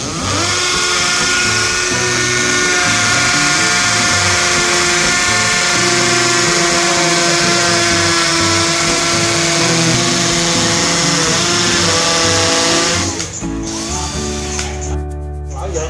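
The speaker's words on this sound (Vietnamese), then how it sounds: "máy khoan có 3 chế độ ra, mình để chế độ khoan búa nha." A Stanley SCH12S2 10.8V cordless drill runs in hammer mode into a concrete post, a loud, steady whining rattle lasting about thirteen seconds before it stops, followed by quieter handling noise.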